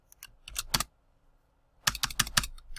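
JavaScript code being typed on a computer keyboard, with two quick bursts of close key clicks separated by a pause, alone with no voices.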